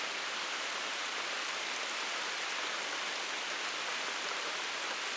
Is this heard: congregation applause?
no